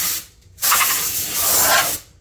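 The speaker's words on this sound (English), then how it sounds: "Let me just give this a quick spray in case there's any dust in here." Aerosol duster sprayed into a lit race sign's electronics enclosure to clear dust from a circuit board, two separate hissing bursts, the first short and the second a longer steady blast lasting over a second, close to the microphone with no talking.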